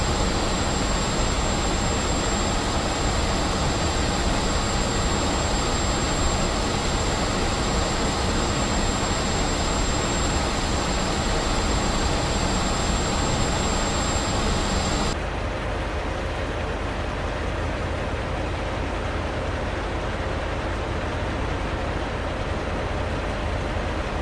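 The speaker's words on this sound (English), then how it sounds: "C-17 now on runway 13, he's starting his takeoff roll." A C-17 transport jet in the DCS flight simulator begins its takeoff roll on runway 13, a loud, continuous jet-engine roar that holds steady, then drops to a duller, quieter rush partway through.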